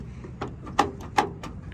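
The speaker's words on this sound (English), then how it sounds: "Close this door up." A metal door on a diesel mechanic's service truck swings shut, giving a couple of sharp, close clanks about half a second apart over low background rumble.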